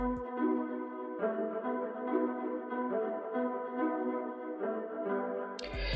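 Strummed melodic phrase pitched down an octave, drenched in reverb and chorus with Valhalla Supermassive and EQ, for a dark trap beat: sustained, wide, moderately quiet chords changing every second or so, alone.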